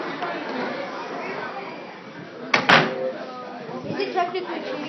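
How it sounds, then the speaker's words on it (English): A door is shut indoors with a short, sharp thud in mid-clip, heard under ongoing conversation from nearby voices. "I'm just going to shut the door."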